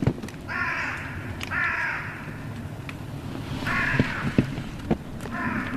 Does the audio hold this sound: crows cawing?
yes